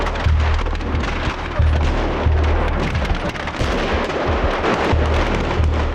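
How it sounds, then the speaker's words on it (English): Bursts of gunfire crack and boom across open city streets in Grozny during the First Chechen War, echoing continuously with rumbling reverberation and no voices. "Gunfire is still echoing around the center of Grozny"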